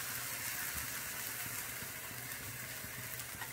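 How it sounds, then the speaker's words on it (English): Bread frying on a ghee-greased tawa for eggless French toast, a soft, faint, steady sizzle with a low hum underneath and a few light taps. "Now I am going to put this bread on this"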